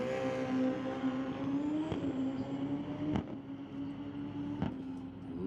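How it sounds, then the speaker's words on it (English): Pro Mod drag racing motorcycle at the drag strip, a steady, droning engine note with a strong held pitch and faint harmonics, a few sharp clicks punctuating it, heard fairly close without talk. "Rob Aston getting ready to take to the track in the Pro Mod bike."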